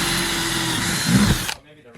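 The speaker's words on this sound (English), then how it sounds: "They say to reverse drill in plastic." A power drill spins in reverse into plastic during a solar charge controller installation, a loud steady whine with a strained dip near the end before it cuts off abruptly, with voices briefly present.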